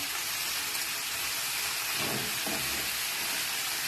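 Taro stalks dropped into a hot pan for adobo, giving a steady loud sizzle and hiss throughout with a slightly heavier rustle partway through.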